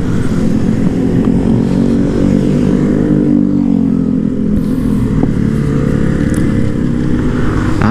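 Steady, loud engine drone of a Benelli Motobi 152 motorcycle being ridden and turned around, continuous throughout with no pauses and no talk.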